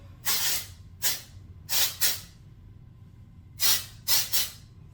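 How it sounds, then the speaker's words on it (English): Short hissing bursts of a volumizing hair texture aerosol spray, six quick sprays in an uneven rhythm, close and fairly loud over a low background hum. "texture spray just all through it"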